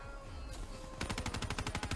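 The Gorgon firing in the game Black Ops 3, a rapid burst of loud automatic shots after a second of background game noise.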